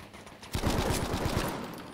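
Burst of automatic gunfire in Battlefield V Firestorm, a rapid rattling volley that starts abruptly and rolls on with echoing reverberation, loud and fairly close.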